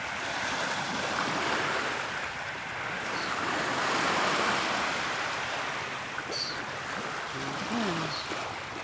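Fairly strong sea waves break on a sandy beach at sunset, producing a steady, full surf roar with gentle swells in loudness, and no talking.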